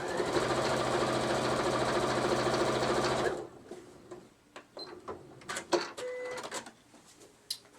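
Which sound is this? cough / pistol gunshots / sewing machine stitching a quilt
sewing machine stitching a quilt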